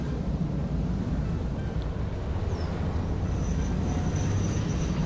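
A video game train brakes and then reverses a short way, producing a steady, loud rumble of rolling stock and machinery that runs unbroken for about five seconds with no talk over it.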